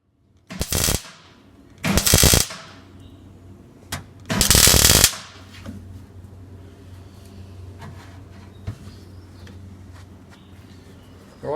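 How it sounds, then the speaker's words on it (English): Welding on pinholes in the rusted boot lip of a Holden VH car: three short, loud crackling bursts up close, separated by quiet gaps with a low background hum and no talk. "a little bit of welding today around the back of the VH, around the boot lip"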